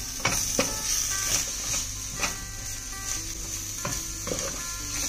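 Spinach and spring onion sizzling over medium heat in a pan for breakfast egg muffins: a continuous frying hiss broken by repeated spatula knocks and scrapes, up close and without speech.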